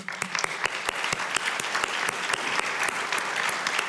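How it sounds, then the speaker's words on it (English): Conference audience applauding the event's supporters, a steady wash of many hands clapping with sharp individual claps standing out, moderately loud and continuous. "Give them a round of applause."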